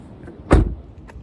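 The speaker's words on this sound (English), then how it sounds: "Very important to lock the door and then test the handle." A car door lock clunks once, loud and close, with a short mechanical rattle as the handle is tested, set against quiet outdoor background noise.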